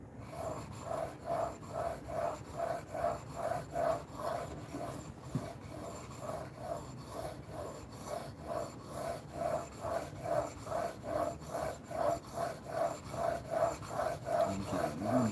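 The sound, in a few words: knife blade sharpening on a 3000 grit whetstone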